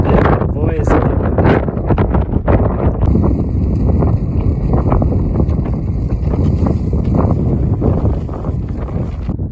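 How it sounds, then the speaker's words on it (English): Strong gusting wind buffets the microphone on a foggy coastal mountain peak along the Mugu Peak Trail, a loud continuous roar with rumbling low-end bursts that persists throughout. "boy, is it windy"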